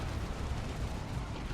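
Artillery barrage in the real-time strategy game Dawn of War 2 Retribution, a steady, fairly faint rumble of overlapping low blasts lasting under two seconds with no distinct gaps.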